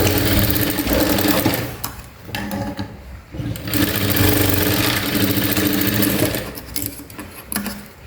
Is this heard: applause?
no